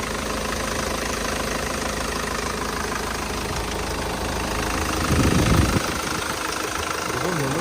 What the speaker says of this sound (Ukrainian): Ну, двигун гарно працює.